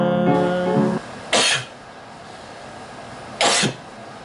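After a brief tonal sound at the start, two sharp, explosive sneezes burst out about two seconds apart, with quiet in between.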